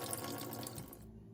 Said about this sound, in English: Getting the rest of the water out of the line.